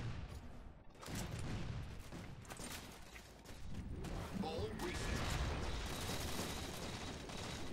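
Rapid gunfire from a Halo 4 multiplayer match, bursts of automatic shots crackling over a busy background mix, with a player talking over it.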